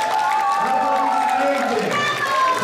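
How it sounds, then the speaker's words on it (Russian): Audience applause after a primary-school choir performance at a Russian school in Sofia: steady, dense clapping mixed with crowd cheer and voices, loud and continuous throughout. "Аплодисменты!"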